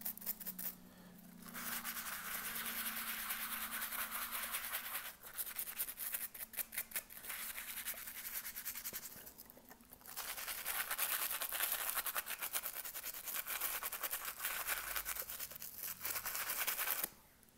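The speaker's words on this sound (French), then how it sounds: "On va prendre un petit bac d'eau, une petite brosse et on va venir brosser tout ça." A small brush scrubs a very dirty Pokémon Blue game cartridge in a little tub of water, producing steady, close, loud bristly rubbing strokes that run almost continuously, with a few short pauses.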